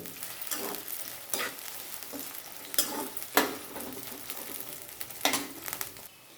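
Food frying in plenty of oil until reddish, a steady close sizzle broken by repeated louder scrapes of stirring, with no talking.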